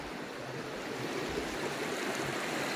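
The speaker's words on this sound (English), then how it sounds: "Got the river coming down." A mountain river rushes down through mossy forest on the Te Araroa Trail at about 800 metres elevation, a steady, close, full roar of flowing water with no voices.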